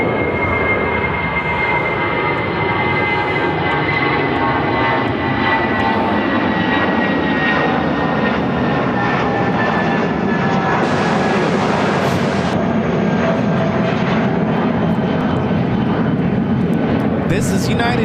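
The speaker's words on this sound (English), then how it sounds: "This is United Airlines 1448 taking off to Buffalo on the A319." A United Airlines A319 takes off with a loud, sustained jet roar and high whining tones, the pitch of the engine hum sliding as it passes, with a brief hiss burst near the end.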